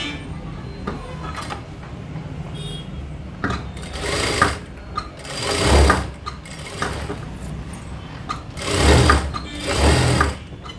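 A sewing machine stitching a blouse runs continuously, with a steady mechanical whir and rhythmic needle clatter that swells into louder bursts, close to the microphone.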